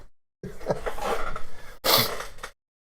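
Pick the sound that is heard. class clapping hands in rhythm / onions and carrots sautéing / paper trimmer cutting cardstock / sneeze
sneeze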